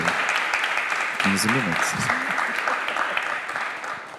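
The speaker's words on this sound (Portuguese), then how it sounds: "uma salva de palmas para Adilton" Audience applauding for a speaker named Adilton at a live talk, sustained clapping throughout, with an announcer speaking briefly over it in the middle.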